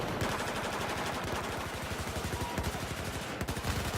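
Sustained machine gun fire in a video game, rapid evenly spaced shots forming a loud, continuous burst that runs almost the whole time with only brief stutters.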